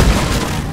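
A resupply pod lands in the video game Deep Rock Galactic with a single loud, deep boom that rumbles briefly and fades.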